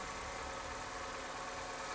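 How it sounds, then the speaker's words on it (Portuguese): A car engine left running at idle during a thermostat valve test, giving a steady, even hum with no talk over it. "Vou deixar o motor ligado"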